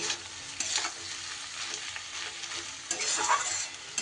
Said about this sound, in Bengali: এবার এই চাট মশলা আর ম্যাগি মশলাটা খুব সুন্দর করে নাড়িয়ে চাড়িয়ে মিশিয়ে নিতে হবে